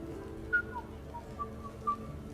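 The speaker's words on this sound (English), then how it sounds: "Are you whistling?" A character in the video game Mass Effect 3 whistles a few short, faint, wavering notes at a quiet party over a low background hum.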